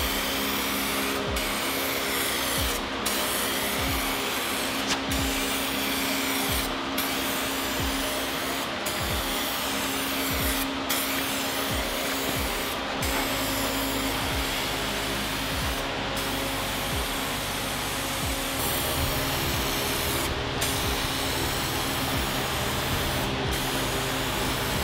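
A spray gun lays 2K clear coat onto a go kart body, giving a loud, continuous hissing rush with rhythmic brief interruptions as the passes are made.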